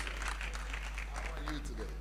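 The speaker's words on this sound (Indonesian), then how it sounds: "Beri tepuk tangan yang meriah dan kita siap untuk diberkati" A church congregation claps together in a soft, steady patter, faint and slightly distant, with a low hum running underneath and a voice speaking over part of it.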